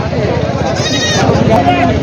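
Goats bleat at a busy goat and sheep livestock market, with a rising, wavering bleat standing out over constant crowd chatter and nearby talk.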